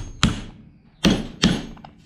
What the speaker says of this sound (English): Grab the trusty hammer.